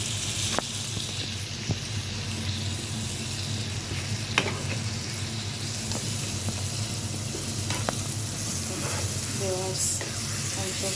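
Beef bhuna frying in a pot with spices, giving a steady sizzling hiss broken by occasional stirring clatters, close and fairly loud with no talk.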